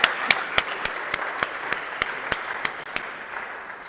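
Applause from an audience at a physics conference talk on asymptotic curvature and gauge theories: a moderate, evenly paced run of claps, sparse and fairly distant, fading slightly over a few seconds.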